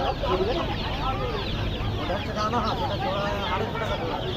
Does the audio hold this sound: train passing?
no